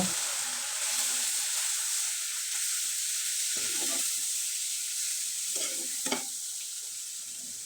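Turmeric, cumin powder and chilli powder stirred with a splash of water in a hot pan, giving a loud, continuous sizzle and steam hiss with a few scraping stirs.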